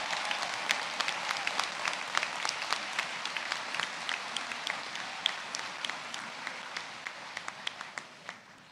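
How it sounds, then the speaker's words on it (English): A graduation conferring audience applauds the class of 2023, a steady wash of many hands clapping with sharper individual claps standing out, slowly thinning toward the end. "please give yourselves a round of applause"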